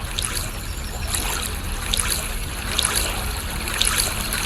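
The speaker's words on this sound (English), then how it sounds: "Look at that water swirling around." River water swirls and trickles in a whirlpool, with a steady close-up burble and recurring splashy bursts continuing throughout, no talking.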